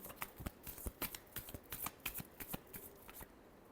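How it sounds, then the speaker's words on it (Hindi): Tarot cards shuffled by hand, a rapid series of crisp riffling slaps and flicks in quick rhythm, quiet and close with no talk. "Last shuffle."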